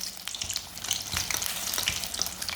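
Egg pakora frying in hot oil, a steady close crackling sizzle with scattered sharp pops and bubbling throughout, no voices.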